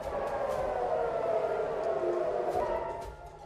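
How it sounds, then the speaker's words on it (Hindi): A civil defense air raid siren in Israel, warning of Iranian missile attack, wails in the distance, a steady sustained tone holding for several seconds over faint background noise. "इजराइल के आसमान में एक सायरन की आवाज सुनाई पड़ती है"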